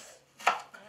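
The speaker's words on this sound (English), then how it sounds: "Start by chopping 1 large onion." A knife chops through a large onion in a couple of quick cuts: one firm, close chop followed by a lighter one, with quiet kitchen room tone around them.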